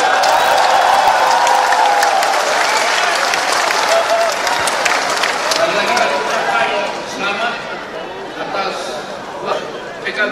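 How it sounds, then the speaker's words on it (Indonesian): A large crowd claps loudly and steadily at a political party's 26th anniversary gathering, the dense applause slowly thinning and fading with some murmured chatter underneath. "Sekali lagi tepuk tangan yang meriah untuk Profesor Sufmi Dasko"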